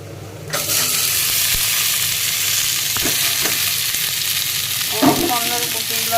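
Head-on shrimp fry in a pan, to be cooked with taro, giving a steady close sizzle with occasional stirring clatter and scrapes.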